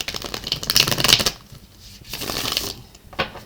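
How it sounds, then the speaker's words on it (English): Tarot cards riffle and flutter in quick, papery bursts up close, with brief pauses between shuffles. "As I shuffle"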